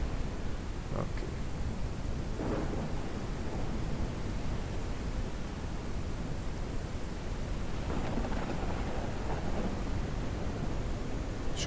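Thunderstorm in the airship game Forever Skies, a loud, steady roar of rain and wind filling the scene, with faint low rumbles rising now and then.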